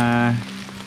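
Rain falls on a night mountain trail on Mount Lawu, a steady close hiss of drops that continues after a brief voiced tone at the start.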